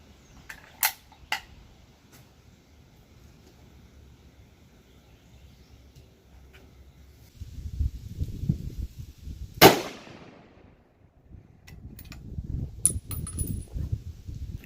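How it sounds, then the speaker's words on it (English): A single sharp shot from a Browning X-Bolt Gold Medallion .30-06 bolt-action rifle fired at a target 25 yards away outdoors, one loud crack standing out amid faint wind and handling noise. "So I'm going to go ahead and take a single shot at this target down here at 25 yards"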